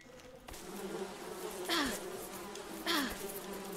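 Bees buzz steadily around a beehive in the survival game Above Snakes, a close, even drone that swells twice as insects pass near.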